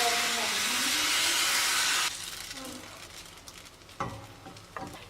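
Batter sizzles loudly in a hot pan for about two seconds, a bright steady hiss, then drops to a quieter crackle broken by a couple of short clinks.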